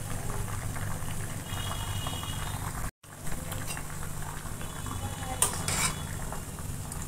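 Parwal sweets being stirred and cooked in boiling sugar syrup in a pot, with a steady bubbling hiss and occasional scraping and clinks of a spoon against the vessel.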